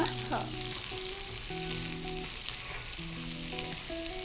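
Onions fry in a pan with dill greens for a split-lentil stir-fry, giving a steady close sizzle and crackle throughout, with a few clinks and tonal kitchen noises over it and no talking.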